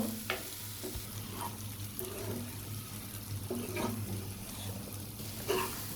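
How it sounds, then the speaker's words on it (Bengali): Fried cauliflower and potatoes stirred together in a pan for cauliflower dopeyaza, with a spoon scraping in repeated strokes over a steady sizzle and low background hum. "আগে থেকে বেজে রাখা ফুলকপি আর আলু সবগুলো একসাথে মিশিয়ে নিব"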